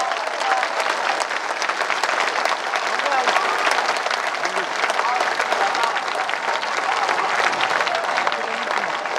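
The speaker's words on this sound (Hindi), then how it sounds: "जैसे मैंने कभी लोगों को ताली बजाते देखा ही नहीं हो।" Sustained audience applause at a Hindi patriotic poetry recital, a dense steady clapping from a large crowd that holds at an even level throughout.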